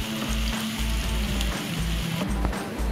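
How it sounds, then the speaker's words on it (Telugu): Onions fry in hot oil for biryani, a dense, steady sizzle with crackling pops running throughout, close and fairly loud, with no voices. "ఇక్కడ మన ఆనియన్స్ చాలా రెడ్గా ఫ్రై చేసుకోవాలండి"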